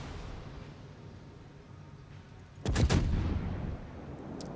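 Warship main-battery gunfire in the naval game World of Warships, a single loud booming salvo bursting out after a quiet stretch of ambient sea noise, then rumbling away.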